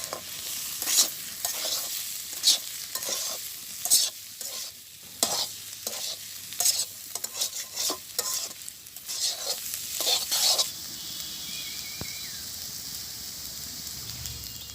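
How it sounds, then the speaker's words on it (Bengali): Fried onion vegetable bhaji being stirred in a pan in a village kitchen, close and loud, with repeated scraping strokes over a steady sizzle, then a calmer stretch of frying near the end. "ভাজি ভেজে হয়ে গেছে, আমি এখন মিশিয়ে দেবো।"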